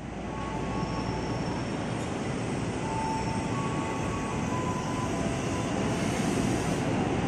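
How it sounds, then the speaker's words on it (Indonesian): A KRL commuter electric train departing track 8 at Jatinegara station, producing a steady loud rumble of wheels and motors with faint high whines, continuous and close, with no voices. "di jalur 8 udah ada KRL komuter lain JRI 205 yang berangkat menuju stasiun Bogor lewat Pasar Senen, Angke, Tanah Abang, Manggarai sampai Bogor"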